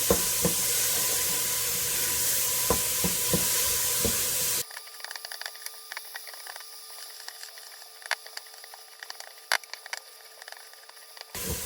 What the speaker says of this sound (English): I cook the onions a bit before I put the garlic in because I don't want it to burn